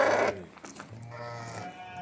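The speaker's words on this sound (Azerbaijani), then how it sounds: "Tatalların boz qoyunu yerin üstündə olan qoyun bax budur" A Tatal grey sheep bleats loudly in one strong call at the start, followed by quieter sheep sounds and low farmyard murmur from a flock of pregnant ewes.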